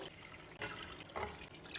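Five glasses of water are poured into a cooking pot, making a faint, continuous splashing trickle with a couple of brief surges.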